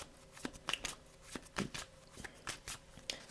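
Tarot cards being shuffled by hand, a series of crisp riffling and flicking bursts at an uneven rhythm, close and fairly quiet, with no talk.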